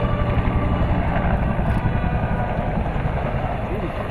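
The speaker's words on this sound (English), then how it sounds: "The Huey helicopters you see here actually flew combat missions in Vietnam" Vietnam-era Bell UH-1 Huey helicopters fly overhead with a loud, continuous rotor and engine roar, while an announcer talks over the din.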